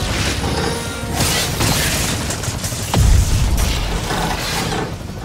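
Helicopter engine destroyed during a Spider-Man PS4 game battle: a loud booming crash around the middle over constant whirring mechanical rumble and clattering action noise.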